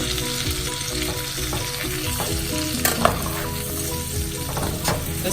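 Green beans frying in bacon fat in a small pan, a loud steady sizzle with occasional clinks and scrapes of metal tongs stirring them, close up.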